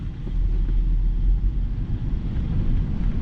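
A 1999 Chevrolet Suburban K1500 engine rumbles low and steady, revved while held in first gear in 4 low, a deep, continuous drone close by with no talk.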